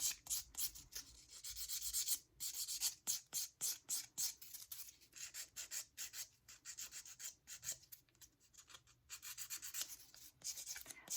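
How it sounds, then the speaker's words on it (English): A nail file rasps back and forth across a gel-coated fingernail, rough side down, in quick steady strokes, close and fairly quiet for about eleven seconds, with faint talk now and then. "My file has one side that is a little bit rougher than the other, and actually that's the side that's on my nail right now"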